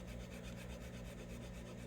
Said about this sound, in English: we can finish it out with a sanding block